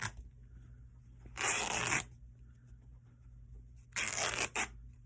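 Fabric torn by hand into strips for prayer flags, two long ripping bursts about two seconds apart, close and fairly loud against a quiet room with a low hum.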